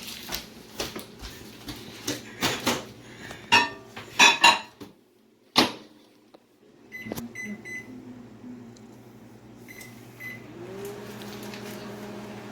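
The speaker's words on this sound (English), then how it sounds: "We are microwaving butter." Clatter and clicks of a microwave door and buttons, a few sharp beeps, then the steady low hum of the microwave oven running while melting butter.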